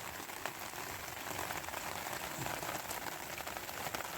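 The first monsoon rain falls at night in the Konkan countryside in May, a soft, steady patter of drops on surfaces and water, continuous and fairly faint throughout.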